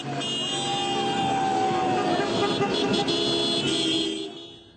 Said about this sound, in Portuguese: E para encerrar a noite, buzinaço pelas ruas de Belo Horizonte.